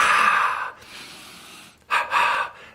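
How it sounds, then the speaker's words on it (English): A person takes a deep breath, a long audible inhale followed by a softer stretch and then two quick breathy gasps close to the mic. "take a deep breath"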